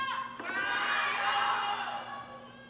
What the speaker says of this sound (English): the crowd starting to cheer for Sun Ying-sha